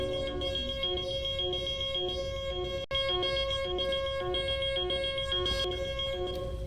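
A shrill electronic alarm in the video game Lockdown Protocol beeps in a steady repeating pattern from speakers over a constant tonal drone, with one brief dropout midway.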